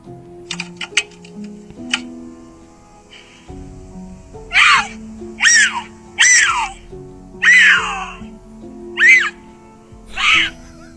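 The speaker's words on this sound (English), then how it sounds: "cougars tend to scream while mating" A cougar lets out a series of harsh, rising screams, about six calls spaced a second or so apart, over a background of music.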